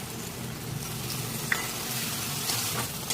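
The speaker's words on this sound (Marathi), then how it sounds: "मिरची छान भाजून घ्यायची" Green chillies and onion sizzling with salt in a pan for a Khandeshi dish, a soft continuous frying hiss with a light stir or clink midway, steady and close, no voices.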